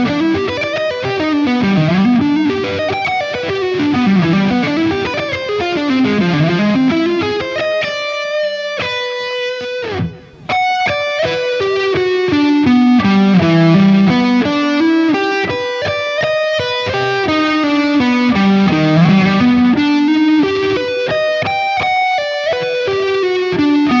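An electric guitar runs fast Super Locrian sweep-picked arpeggios through distortion and effects, with rising and falling note cascades, loud and continuous apart from a brief gap midway.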